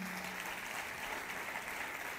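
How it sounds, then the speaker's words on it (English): Audience applause at a yoga festival ceremony, a faint, distant, steady wash of clapping that holds evenly for a couple of seconds. "with a big round of applause for this movement"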